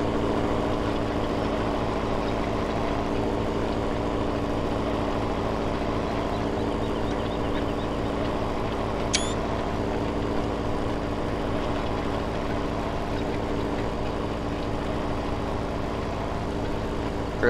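A tractor engine in Farming Simulator 17 drones at a steady idle-like rumble with a rhythmic low throb, continuous and close, with one brief high chirp partway through.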